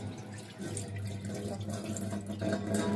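Running water from a kitchen tap streams steadily into a sink during washing, a continuous close splashing rush with no pauses.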